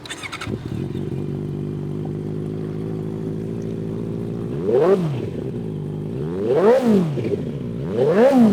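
A black 2019 motorcycle with a large exhaust idles with a steady throaty rumble, then is revved hard three times, each blip rising and falling sharply, loud and close with no talking.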